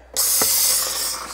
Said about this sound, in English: we're gonna go ahead and use our steamer